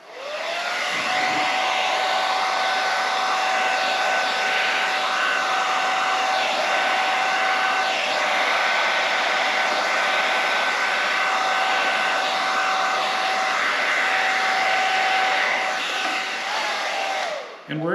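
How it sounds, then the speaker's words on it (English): A hair dryer blows alcohol dye across wet Stone Coat epoxy, a loud steady whooshing roar with a constant whine, starting and stopping cleanly and running alone without talk. "Then I'm going to take my hairdryer,"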